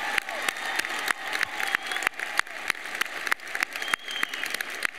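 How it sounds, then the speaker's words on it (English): A graduation ceremony audience at Clackamas High School applauding the 2023 valedictorians, a dense, sustained wash of many hands clapping in a large hall, steady over several seconds. "Please join me in a round of applause for our 2023 valedictorians."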